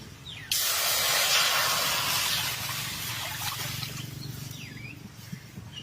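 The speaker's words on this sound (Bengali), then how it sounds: "কড়াইটা বহাই দিছি, এখন জলটা দিয়ে নিই।" Water is poured into a hot wok to steam village-style crab. It bursts into a sudden loud, close hiss of steam that eases into a softer, fading sizzle over several seconds.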